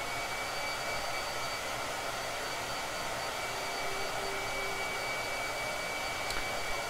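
A blow dryer runs nonstop in a room, an even, faint airy whir with a thin motor whine, holding level throughout without any talking.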